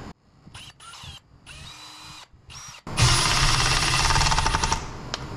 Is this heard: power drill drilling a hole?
yes